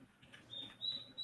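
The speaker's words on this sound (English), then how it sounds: "So that's what the chirping sounds are on the back." Small birds chirp with thin high tweets, a few short calls rising toward the end of the moment, fairly faint over a soft outdoor background with no talk.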